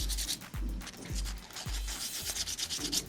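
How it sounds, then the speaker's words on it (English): Sandpaper rubs wet against a piece of polymer clay in quiet, repeated strokes, each soft scrubbing pass followed by a short pause, close up with no voices. "Just rub the piece of clay with your sandpaper."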